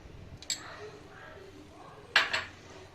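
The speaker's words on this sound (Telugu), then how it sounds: "2 స్పూన్స్ ఘీ వేసుకుంటున్నానండి నేను." A spoon clinks twice against a pan while ghee is added to ragi halwa; the two bright metallic taps stand out over a quiet background.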